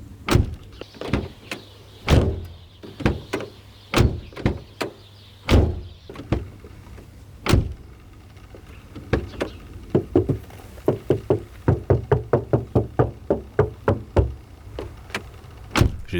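A Ford Mondeo ST220 car door, fitted with soundproofing, is shut again and again: a long run of loud, solid thuds, spaced out at first, then quickening into a rapid string of slams near the end.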